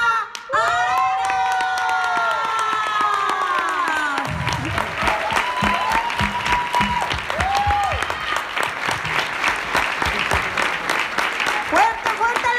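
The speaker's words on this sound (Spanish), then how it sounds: "Fuerte, fuerte el aplauso, que se escuche." Audience at a business presentation event breaks into sustained loud applause with some cheering, while an announcer's voice calls over the crowd.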